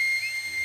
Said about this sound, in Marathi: अशी वाजते शिट्टी.